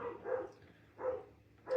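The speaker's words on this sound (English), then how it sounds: "I can tell by the way he's barking that he's not going to stop." A miniature long-haired dachshund barks indoors, three separate moderately loud barks spaced evenly apart with quiet pauses between them.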